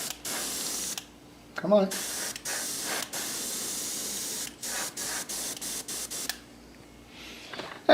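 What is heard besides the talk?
airbrush spraying paint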